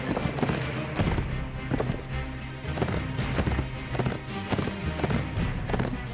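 Steady clip-clop of horse hooves in the Warsword video game, a continuous rhythmic gait over dense game ambience and music, loud and close throughout.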